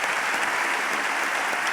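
Audience applause at a Mexican political forum as presidential candidate Ricardo Anaya is introduced: a dense, steady wash of many hands clapping, loud and close, with no voices over it.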